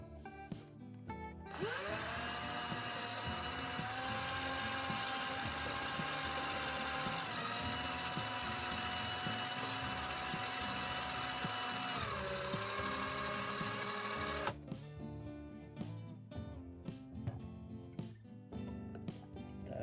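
A step drill bit bores through 3 mm black steel with a power drill, a loud, sustained whining grind of about thirteen seconds with pitch shifts as it cuts, followed by scattered knocks and handling noise.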